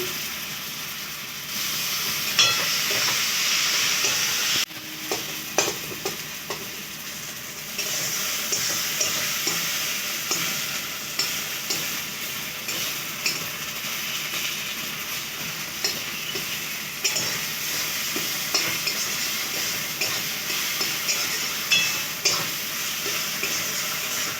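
Tomato is stir-fried in a pan for a potato, onion and fish curry. A continuous sizzle runs underneath while a spatula clicks and scrapes repeatedly in uneven bursts, close and fairly loud.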